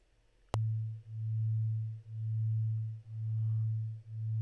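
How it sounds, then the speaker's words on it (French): A steady low sine tone, two sine tones beating together, swells and fades in slow regular pulses, about one per second, after a sharp click at the start. "on entend un son qui varie énormément en amplitude"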